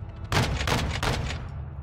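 Artillery and gunfire in a Call of Duty battle: a dense, close barrage of heavy blasts lands in three or four big bursts over a continuous low rumble, with no talk.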